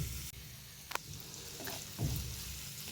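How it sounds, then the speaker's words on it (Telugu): Small chopped okra pieces fry in hot oil with a soft, steady sizzle and a few faint crackles and spatters. The sound stays quiet and close throughout. "ఇవి కొంచెం దూరగా ఫ్రై అయిన తర్వాత మనం ఇందులోకి చిన్నగా తరిగి పెట్టుకున్న బెండకాయ ముక్కలు"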